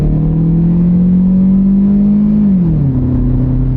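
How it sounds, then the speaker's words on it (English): Toyota car pulling away from a stop under throttle, engine note rising steadily then dropping at a smooth upshift; steady, close, continuous interior engine drone with no talk. "we'll come to a stop and we'll step on the gas and see what happens. It's slowly taking off."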